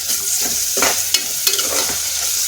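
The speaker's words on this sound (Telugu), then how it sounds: "ఇప్పుడు అందులోకి ఒక స్పూన్ దంచుకున్న అల్లం వెల్లుల్లి పేస్ట్ వేస్తున్నాను బాగా తిప్పేసుకోవాలి" Pounded ginger garlic paste being stirred into frying onions: a loud, close, continuous sizzle with repeated scraping and clacking strokes of the spoon against the pan.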